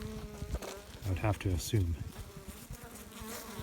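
Honeybees buzz around hives in a bee yard, a steady insect drone running under a voice as he talks over it.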